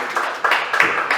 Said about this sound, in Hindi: बहुत जोरदार तालियां होनी चाहिए।